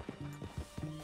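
Horse hooves clip-clop in Red Dead Redemption 2 gameplay, a steady rhythmic series of hoofbeats at moderate loudness while a voiced tone sounds beneath, with no talk.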